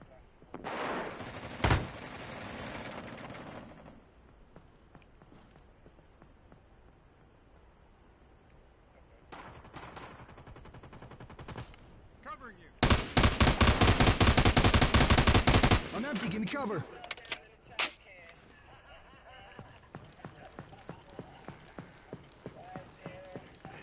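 Gunfire in a first-person shooter match with a sniper on a center balcony: scattered single shots, then a long loud burst of rapid automatic fire followed by a few sharp cracks, with players talking faintly in between.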